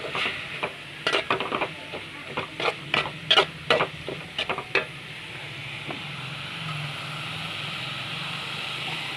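A spatula scrapes and stirs curry leaves and coriander sautéing for chutney in a pan, with a burst of rapid clattering strokes over a soft sizzle, then a steady frying hiss on its own.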